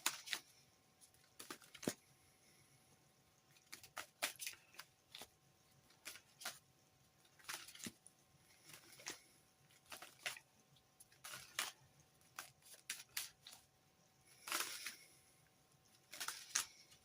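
Tarot cards are handled and shuffled close up in quiet bursts: soft riffling, sliding and tapping come in irregular clusters with short pauses between them.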